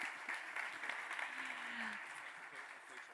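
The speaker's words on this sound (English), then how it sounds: "Let's give her a round of applause." An audience at a conference gives a round of applause, clapping fairly faint and sustained over a few seconds with a background murmur of voices.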